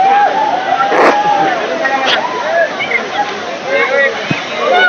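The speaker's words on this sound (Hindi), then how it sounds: "देखिए झरना के पास जा रहे हैं" Rushing water of a hill-station waterfall in Mussoorie, Uttarakhand, a loud continuous roar and splash close by, with people talking over it and a few sharp knocks.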